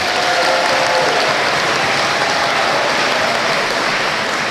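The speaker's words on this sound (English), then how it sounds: "How about a round of applause for them?" Loud, sustained applause from an awards ceremony audience, an even wash of many hands clapping together close by, with a faint voice briefly audible at the start.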